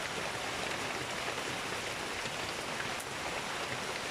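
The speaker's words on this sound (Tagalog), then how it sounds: "Ulan, bagyo." Steady rain falls during a storm, a dense, even hiss of drops pattering on surfaces, close and constant with no voices.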